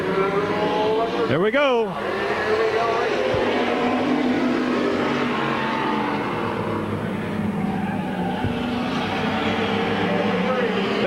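Race cars at Midvale Speedway in 1999 roar past in a loud, sweeping pass with a sharp rising-and-falling whine, then keep up a steady engine drone while a commentator talks over the action.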